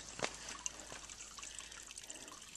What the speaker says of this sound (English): on the top of High Top Mountain, we got a spring